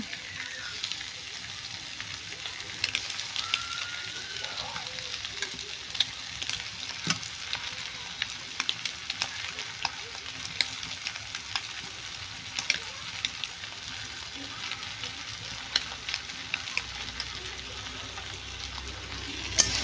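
Grated egg and potato stirred in a hot frying pan, a steady close sizzle with scraping spatula strokes running throughout, no voices.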